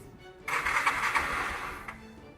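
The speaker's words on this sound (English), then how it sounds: "We're gonna start the engine and try out whether our stuff works." A Yamaha XTZ 125 motorcycle engine with an idle fault cranks and catches with a rough, buzzing roar for about a second and a half, then fades back to a low idle hum; close and fairly loud.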